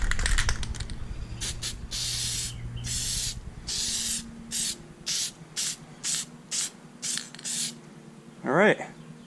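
Aerosol can spraying Plasti Dip onto Hyundai badges in light coats, heard as a string of short hissing bursts at a steady rhythm, separated by brief pauses, with a low background hum and a faint rising squeak near the end.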